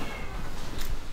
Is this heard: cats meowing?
yes